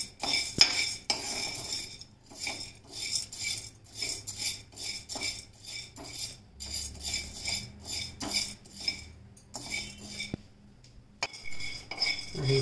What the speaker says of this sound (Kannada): ಕಡಲೆಬೇಳೆ ಹುರಿತಾ ಇದ್ದೀನಿ